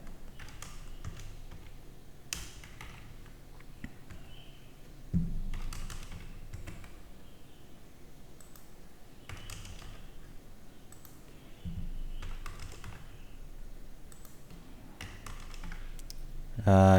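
Student ID numbers are typed on a computer keyboard as bursts of quick, close key taps, while a voice speaks over them almost throughout.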